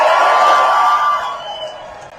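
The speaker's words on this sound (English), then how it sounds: "I want a big round of applause for our straight allies" A large outdoor crowd at a No Kings Day rally in a downtown Palm Springs park cheers and whoops loudly, the roar swelling at once and then fading away over about two seconds.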